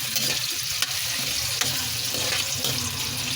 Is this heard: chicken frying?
yes